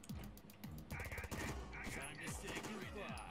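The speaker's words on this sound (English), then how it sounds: "Rifle is going ham." Rifle gunfire in the tactical game Door Kickers, a rapid run of sharp, loud shots fired in quick bursts that repeat steadily across the whole stretch.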